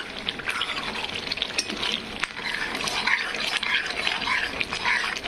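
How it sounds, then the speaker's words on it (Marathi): Chickpea dal curry fries in a pan, producing a steady bubbling sizzle close by, with soft spattering crackles and occasional light knocks throughout and no speech. "पूर्णपणे फ्राय होत आहे"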